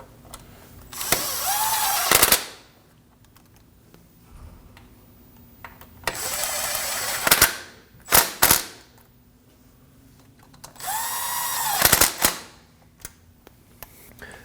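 Cordless power tool snugging down the transfer case shift motor bolts on a 2015-2022 Chevrolet Colorado 3.6L V6, in three bursts of loud whirring with ratcheting clicks and pauses between, close up with no talk.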